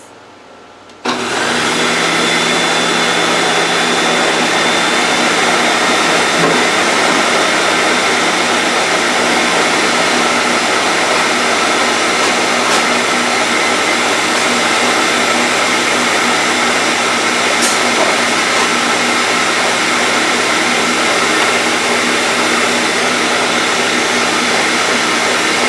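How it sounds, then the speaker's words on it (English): A Ninja blender whirs into action, mixing strawberry cake batter with a loud, steady motor roar. The sound starts abruptly after a brief quiet and holds almost unchanged to the end. "I'm using the Ninja and I'm going to hit mix"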